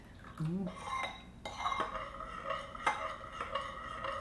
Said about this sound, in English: But you have to stir it so it doesn't stay lumpy or granulated.